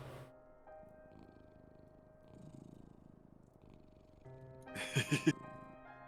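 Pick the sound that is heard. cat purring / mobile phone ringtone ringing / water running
cat purring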